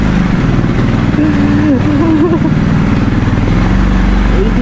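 A motorcycle engine rumbles steadily up close as the bike wobbles on a muddy road in heavy rain, the pitch wavering slightly as it idles and revs, with a voice faintly under the noise.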